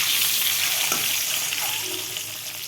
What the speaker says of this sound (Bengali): হলুদ তেলে দেওয়ার কারণেই ডিমগুলো ভালোভাবে ছিটকায় না, রান্নায় পটাশ পটাশ করে ফেটে যায়।